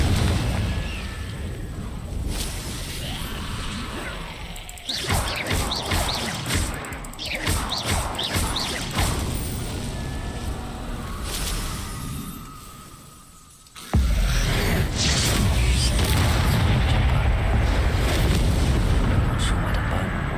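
Fiery spell blasts in Hogwarts Legacy, a fantasy action game, burst out as loud booming explosions with crashing debris, with a heavy rumbling section near the end and talk and game effects mixed in.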